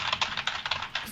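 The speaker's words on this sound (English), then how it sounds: "furiously typing away." Rapid computer keyboard typing at home, a quick irregular run of crisp clicks with bursts every fraction of a second, close and fairly loud with no talking.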